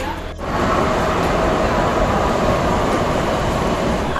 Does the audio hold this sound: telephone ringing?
no